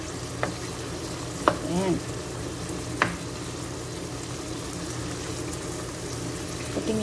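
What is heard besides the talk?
chicken being sautéed in a pan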